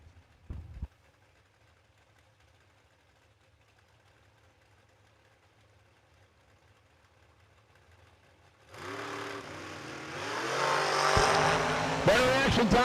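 Drag race cars launch for round 2 at the New Year Nationals: a quiet staging idle, then a sudden loud roar of engines taking off that swells and stays strong to the end, with a commentator talking early on.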